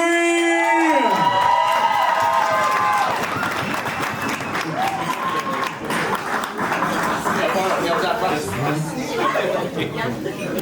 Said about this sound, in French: Mesdames et messieurs, on les applaudit, on les accueille comme il se doit. Les garçons d'honneur, faites du bruit!